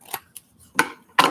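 Paper being trimmed with scissors, heard as a few short, crisp snips spaced apart, close by and fairly quiet, with the last two cuts the loudest.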